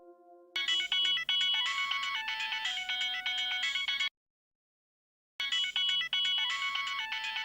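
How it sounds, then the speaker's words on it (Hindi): Mobile phone ringtone of an incoming call plays a bright repeating electronic melody, clear and fairly close, cutting off briefly to silence before starting again, with no talking. "अरे वाह, बहू का फोन है।"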